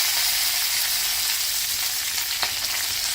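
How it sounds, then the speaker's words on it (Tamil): Curry leaves crackle and sizzle in hot oil with mustard seeds, a steady loud frying hiss with a sharp pop near the end, alone without talk. "அதில் கருவேப்பிலை போட்டுக்கலாம்."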